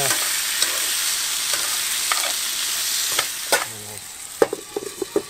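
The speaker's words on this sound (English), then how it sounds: "And then just give it a good stir." Food being stirred in a cooking pot, a steady sizzling bed of frying with scraping and clattering spoon strokes that grow sharper and more frequent toward the end, no voices.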